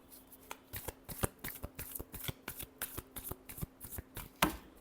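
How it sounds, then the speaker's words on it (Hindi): Tarot cards are shuffled by hand in a quiet room, a rapid series of soft, crisp riffling flicks and taps in an uneven rhythm, close and fairly faint. "Last shuffle."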